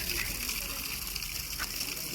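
Water sprays steadily from a hose or pipe onto a field, a continuous broadband hiss with a faint voice in the background.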